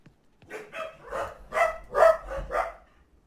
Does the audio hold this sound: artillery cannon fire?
no